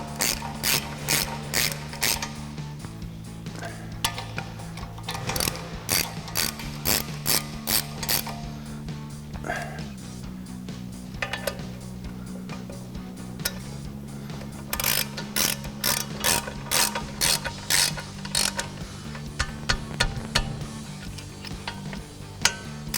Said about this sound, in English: We'll come back with our 21mm socket,